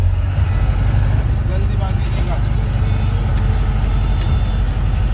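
A pickup jeep runs fast on a road, giving a steady, loud low engine rumble and road noise throughout, with someone speaking over it.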